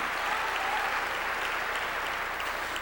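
A congregation at a church service claps together in a steady, dense wash of applause that holds at an even, moderate level from start to finish.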